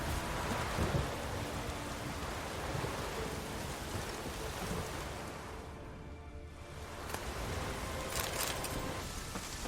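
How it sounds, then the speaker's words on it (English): Steady rain pours in The Witcher 3: Wild Hunt, a dense continuous wash with low rumbling that suggests thunder, loud and unbroken for the whole stretch with no talk. "So it's still rainy, unfortunately."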